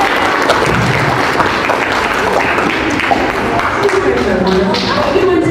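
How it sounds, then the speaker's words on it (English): A live audience claps through a steady round of applause, with dense overlapping claps and some taps and thumps mixed in, and voices are faintly audible underneath. "Can we just give a quick round of applause for Ms. Mullins for being so amazing?"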